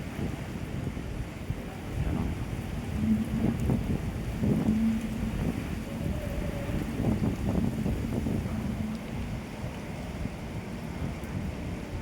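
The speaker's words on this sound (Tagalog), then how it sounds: "Grabe lakas ng ulan." Steady heavy rain pours with a dense wash of noise, mixed with low rumbling and strong wind buffeting, continuous throughout.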